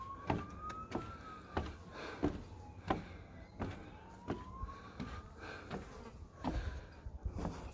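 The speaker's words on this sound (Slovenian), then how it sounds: "Ful je enih muh." Several flies buzz close by, their whining drones rising and falling as they circle, mixed with sharp intermittent clicks and taps outdoors.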